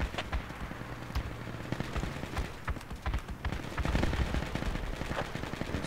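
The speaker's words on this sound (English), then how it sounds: "Shooting at our guys here." Rapid bursts of gunfire and machine-gun fire come from a hill in a firefight, dense and continuous with sharp cracks throughout, loud and close-sounding.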